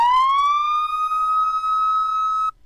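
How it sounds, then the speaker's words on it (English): Police siren from the video game GTA 5, a single loud electronic wail that rises in pitch and holds steady for about two and a half seconds before cutting off abruptly. "And then we can play them to ensure that these are the correct sirens."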